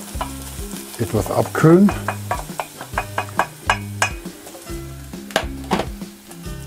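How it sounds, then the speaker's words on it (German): Butter sizzles steadily in a frying pan while Bavarian bread dumplings are being made, with close stirring scrapes and clicks over the hiss and a brief bit of talking. "die Butter ist jetzt leicht angebraten"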